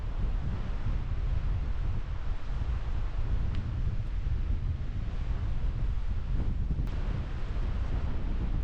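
Wind on a hiking path through woodland after a storm, a constant loud rushing roar with heavy low buffeting on the microphone, steady throughout and without any talk.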